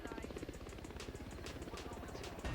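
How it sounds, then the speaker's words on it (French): Helicopter in The Crew Motorfest racing video game, a steady rapid rotor chop with a fast, even beat and a constant engine drone, heard throughout at moderate level. "J'ai un hélico là."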